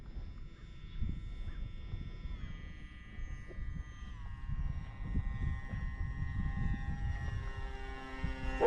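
An Aeroscout RC airplane flies in gusty wind, its electric motor whine climbing and dropping in pitch as the throttle changes, over a rumble of wind buffeting.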